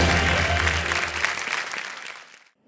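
A studio audience on the Kaun Banega Crorepati quiz show breaks into loud, dense applause with music underneath, which fades out over the final second.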